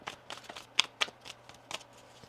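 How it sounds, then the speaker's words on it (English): Crisp riffling tarot card shuffles, a series of quick papery bursts with two sharper snaps in the middle, close and clear with no talking. "One more shuffle here"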